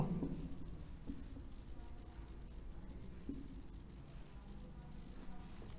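Chalk or a marker scratches across a board in a quiet room, faint, close, intermittent strokes with small taps, under a low background hum.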